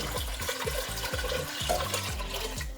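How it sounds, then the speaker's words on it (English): Tap water runs and splashes into a cooking pot being filled for lentil and Swiss chard soup, a close, continuous gurgling stream with a rhythmic wobble as the level rises. "I will start by putting the water in the pot and putting it on the stove"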